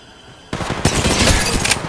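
Rapid automatic gunfire from the mobile game Apex Legends Mobile erupts after a brief quiet lead-in, loud, close bursts of shots running continuously to the end.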